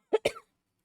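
A person gives two quick, close coughs in a row, the second trailing into a short throat clearing, and then falls silent.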